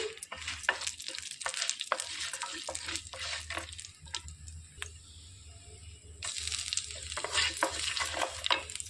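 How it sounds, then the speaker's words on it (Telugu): Steady crackling sizzle of a spoonful of tempering seeds frying in hot oil for carrot chutney, with sharp pops and stirring scrapes, close and continuous with a brief quieter lull. "ఆయిల్ వేడెక్కిందండి ఒక స్పూనుడు తాలింపు గింజలు వేసుకొని కలిపేసుకోవాలి"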